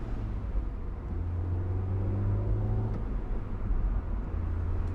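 A Honda S2000 AP2 drives around town, its engine a steady low rumble with a slight swell and fade as it cruises, heard alone without talk.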